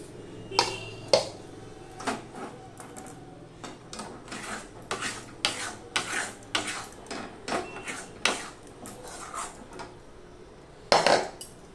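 A metal spatula scrapes and clinks repeatedly against a kadai pan while a thick mango sweet mixture is lifted out, producing a steady series of sharp kitchen knocks and scrapes with no talking.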